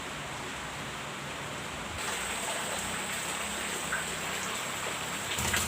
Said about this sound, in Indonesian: jadi maaf suaranya agak berisik ya dari suara hujan.